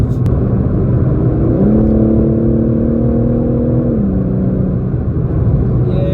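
A BMW G80 M3 Competition cruises along with a steady, low engine drone and road rumble; a clear tonal hum rises briefly midway, then settles back into the even, continuous drive with no voices.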